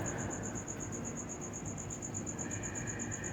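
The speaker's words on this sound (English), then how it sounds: "that's not a cricket. That is somebody's crappy air conditioner" An outdoor air conditioner running, a steady high rapid pulsing whine like a cricket over a constant low hum, faint and continuous.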